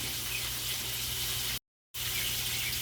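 Water pours steadily from a tap into a pot for pork sinigang, a continuous close rushing hiss that cuts out briefly before resuming, with no talk.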